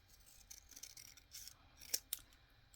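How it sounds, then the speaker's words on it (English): Quiet snipping of tight scissors cutting fabric, a few soft cuts followed by two sharper, crisp snaps close by. "These are just awful tight scissors."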